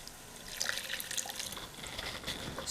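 Water added a little at a time to a simmering beef bouillon and au jus meat sauce for spaghetti, faint trickling and dripping splashes, soft and close, with no voices.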